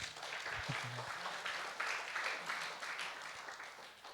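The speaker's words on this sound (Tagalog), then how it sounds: "Pumalakpak nga yung may mga naiintindihan." Audience applause at a church sermon: a sustained patter of many hands clapping, moderately distant and even, with a brief voice near the start.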